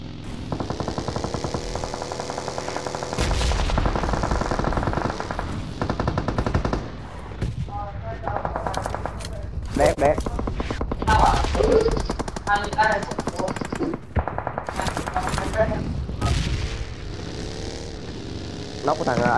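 Gunfire in the mobile game PUBG Mobile: long, rapid automatic bursts rattle loudly with short gaps, while a player talks excitedly over the shooting.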